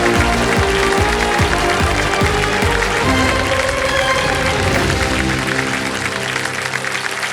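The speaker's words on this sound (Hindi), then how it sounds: "तालियां बज जाए" Studio audience on a television quiz show clapping loudly and continuously, a dense wash of applause that stays strong throughout and thins slightly near the end.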